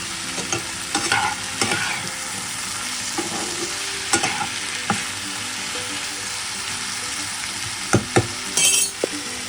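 Potatoes frying in a pan at home, an even crackling sizzle punctuated by intermittent clanks and scrapes of a spatula turning them, loudest bursts near the end, with no voices.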